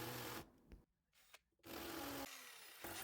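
A hammer drill with a 10mm bit, hammer mode on, bores into brickwork to deepen holes for mounting a hose reel. Loud, continuous rough grinding breaks off for under a second, then resumes steadily, with no talk.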